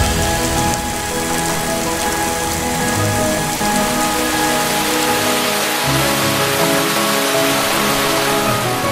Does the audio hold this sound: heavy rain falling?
yes